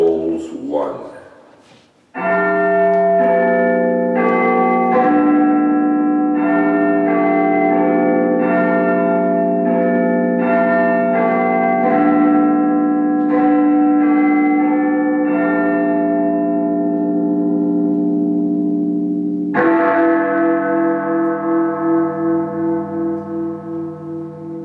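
A church bell tolls repeatedly in a steady, slow rhythm with long ringing sustain, loud and close, then strikes again near the end, part of a stage or film telling of A Christmas Carol.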